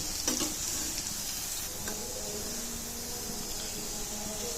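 Fish roe kebabs fry in foaming mustard oil with a steady, close hiss of bubbling sizzle, a few sharper crackles near the start, and no voices.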